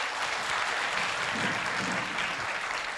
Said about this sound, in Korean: 다시 한번 박수 드리겠습니다.